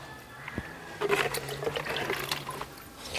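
Water is poured from a container into soil-filled grow bags over freshly planted bean seeds, a short splashing gush that runs for a couple of seconds at close range.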